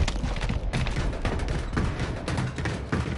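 Rapid bursts of video-game gunfire, dense and close, with repeated sharp shots in quick succession over a noisy background.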